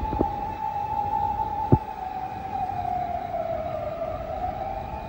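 A Japanese ambulance siren wails in a steady, slowly wavering tone from a moderate distance, running throughout above street background, with two brief sharp knocks near the start.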